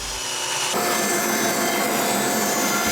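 Black ash boards being cut down by saw, a steady close grinding, rasping cut that starts abruptly under a second in and continues without a break.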